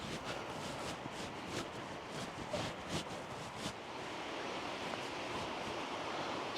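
A fierce river rushes past at the edge of a Welsh town at dusk, a steady, dense roar of water heard alone throughout.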